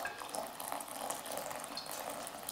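Hot water poured steadily over ground ginger coffee during brewing, a continuous hissing trickle of liquid that stays even and close throughout, with no voices.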